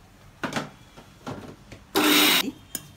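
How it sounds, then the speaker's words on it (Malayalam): A mixer grinder grinding oats and carrot puttu flour in short pulses: a few brief whirring bursts, then one longer, louder grind near the end. "മിക്സിയിൽ ഒരു പ്രാവശ്യം കൂടെ നമ്മൾ പൊടിക്കാൻ പോകുന്നു"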